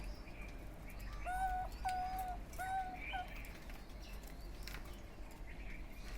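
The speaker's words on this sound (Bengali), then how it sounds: "তুমি কু কু কু কু করে কেন ডাকতেছো?" A diamond dove cooing indoors, several soft, low, drawn-out coos in a slow repeating pattern over faint background hum, with a few light chirps, fairly quiet and close, no speech.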